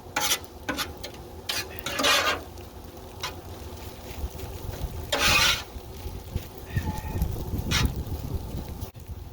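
Italian fried rice with eggplant stirred and tossed on a Blackstone griddle, loud sizzling with bursts of metal spatula scraping across the flat top in several strokes, close and busy, with almost no talk.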